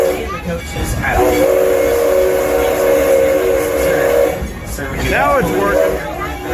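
A Texas railroad train at a Six Flags park moving along, its steam whistle sounding loud and sustained for several seconds over a rumbling running noise, with a voice talking around it.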